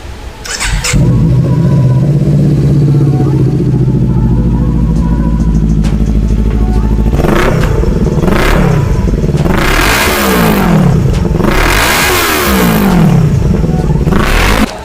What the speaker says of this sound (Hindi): अब आप निंजा 400 के एग्जॉस्ट मोड के बारे में बात करें तो इसमें जो अपग्रेडेड एग्जॉस्ट मोड है वो इस तरीके से है।